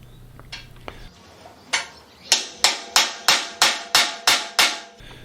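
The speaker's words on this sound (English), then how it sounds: "my first effort was to try and part this piece off using a hammer and chisel" A hammer drives a chisel into 25mm steel plate, starting with a few scattered taps and then settling into a run of about eight loud, ringing metallic strikes at an even, steady pace, close up.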